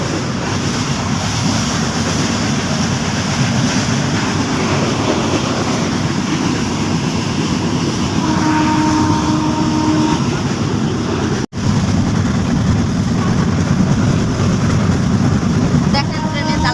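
Inside a moving passenger train on a trip to Kushtia, a constant loud rumble and rushing wind roll on without a break. A brief faint tone rises midway, and a sharp dropout cuts in near the end.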